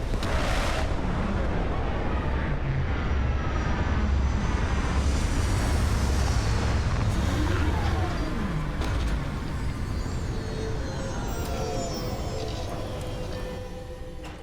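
A spaceship sets down in Starfield with a loud, sustained engine roar and rumble that builds early and slowly fades toward touchdown, alone without talk.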